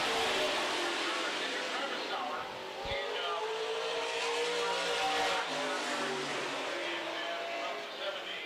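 Wissota Midwest Modified race cars roar around a dirt speedway oval in a dense, loud pack of revving engines, with an announcer calling the race over the continuous motor noise.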